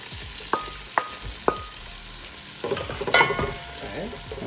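Seasoned beef fries in a pot for a Jamaican brown stew, with a few sharp clanks of a utensil against the pot followed by a louder burst of sizzling and stirring, close by with no talking.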